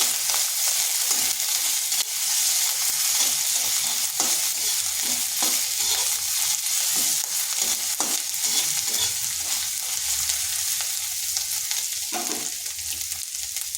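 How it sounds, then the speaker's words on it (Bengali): Grated ginger and garlic fry in a hot pan with a steady, close sizzle while a spatula stirs and scrapes at an even rhythm throughout, with no voices. "আর দিয়ে দিচ্ছি গ্রেড করে রাখা আদা আদা রসুনটা একটু ভেজে নিচ্ছি"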